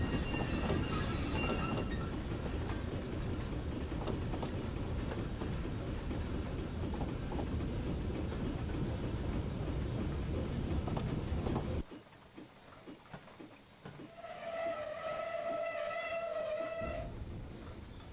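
A Henschel & Sohn Fabia 0-4-0T tank steam locomotive in Train Simulator Classic rumbles and clatters steadily along the rails, then quiets before a multi-tone whistle sounds and fades; no talking.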